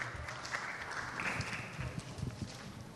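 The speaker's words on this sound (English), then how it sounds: "So a huge round of applause. Let the applause keep going." Applause from a conference audience at a women's conclave, a dense, steady patter of clapping held at moderate level throughout.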